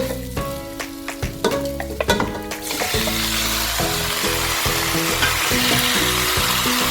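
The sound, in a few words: chicken frying and sizzling in masala for coconut curry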